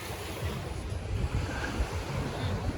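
Ocean surf at a Penang beach in the evening washes in as a continuous, broad rushing roar, mixed with wind buffeting the microphone, with no distinct single wave breaks.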